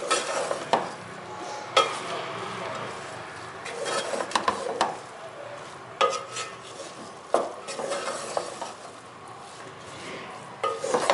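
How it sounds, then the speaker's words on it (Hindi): Batter for beef qeema samosas is stirred in a bowl, with soft scraping and intermittent clinks of a utensil against the dish at a moderate distance, and no talking. "इस बैटर को अच्छे से मिक्स कर लेंगे।"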